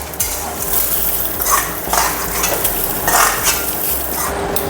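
Jowar rice dry-frying in a pan for a Bengali thor ghonto, stirred so the grains rustle and scrape in repeated rhythmic bursts over a steady sizzle, close and fairly loud, with no one talking.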